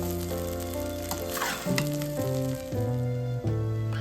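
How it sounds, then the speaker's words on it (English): Basmati rice sizzles and crackles steadily as it is stirred in a hot pan over medium heat for a Palestinian qidreh, with a continuous frying hiss and occasional scraping strokes against a background of soft music. "Drain and add the rice. On a medium heat, stir continuously."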